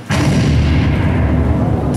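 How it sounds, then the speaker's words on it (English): An explosion sound effect booms during a Christian gospel stage play about the crucifixion, a sudden loud blast that swells into a sustained, deep rumbling roar filling the rest of the moment. "explosion"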